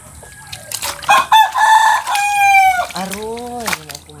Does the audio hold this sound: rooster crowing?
yes